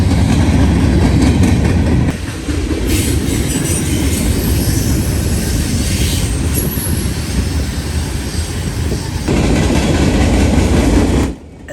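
A Norfolk Southern freight train rumbles past loud and close, with an SD70ACE locomotive shoving on the rear. The heavy continuous roar carries some wheel squeal and shifts in intensity partway through before cutting off sharply.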